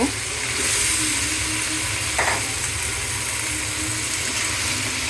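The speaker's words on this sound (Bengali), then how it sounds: "ফালি করে রাখা সিমগুলো দিয়ে দিব।" Loud, continuous sizzling of sliced flat beans frying in a pan with cauliflower and potato for a fish curry, with occasional stirring scrapes and no talking.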